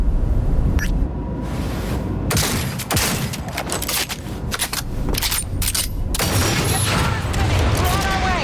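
Heavy gunfire in the video game Cyberpunk 2077: a loud, continuous fusillade of rapid shots and cracking bursts fills the scene, with brief gaps and shouted voices mixed in.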